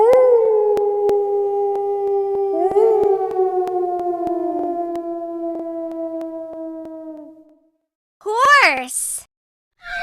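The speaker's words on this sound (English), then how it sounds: "Wolf." A wolf lets out a long, sustained howl that slides gently downward and fades, followed by a shorter rising yip-like howl, loud and close with no other sounds.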